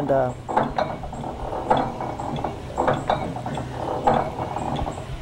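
Large two-ton hit and miss engine running slowly on its governor, a rhythmic series of clanking mechanical beats about once a second with ratcheting clicks between, moderately close with no talk.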